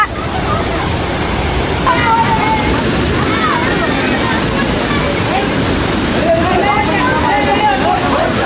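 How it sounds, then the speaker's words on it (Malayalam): A waterfall near Batumi roars as a constant, dense rush of falling water that fills the whole scene, with a voice talking faintly underneath. "നമ്മളിവിടെ ഒരു വെള്ളച്ചാട്ടിന്റെ അടുത്ത് വന്നിരിക്കുകയാണ്."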